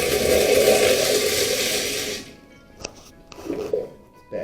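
A Sloan automatic flushometer toilet flushes with a loud, rushing gush of water for about two seconds, then cuts off sharply. A few faint clicks and light shuffling follow in the quiet.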